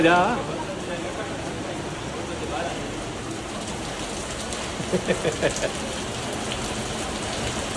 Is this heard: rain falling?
yes